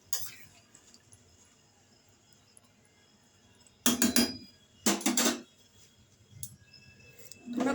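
Metal lid and pot clatter on a gas stove while cooking a thin chicken curry, with two brief clanking bursts close by after a quiet stretch and another knock at the end.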